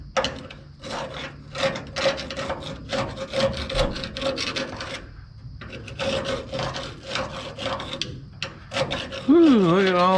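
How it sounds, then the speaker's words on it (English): Sandpaper rasps steadily against the old leaf spring bushing eye on a 1997 Nissan Hardbody D21 truck, in repeated short back-and-forth strokes with a brief pause midway, close and fairly loud. "that's gonna need to be sanded out and cleaned out."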